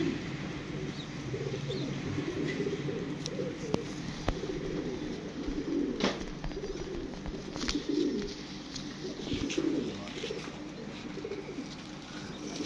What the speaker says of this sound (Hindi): ये माशाल्लाह जी कबूतर है